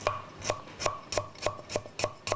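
Thin slicing of lemongrass hearts with a knife on a board for sambal matah, about nine crisp, evenly spaced cuts in a quick steady rhythm, close and clear with no talking.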